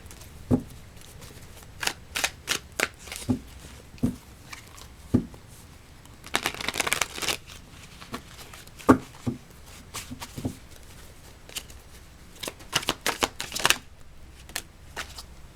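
Tarot cards are shuffled in a quiet room in a series of crisp riffles and slaps, irregular bursts with short pauses between them and one longer flurry in the middle.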